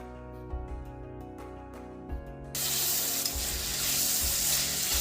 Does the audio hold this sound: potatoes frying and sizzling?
yes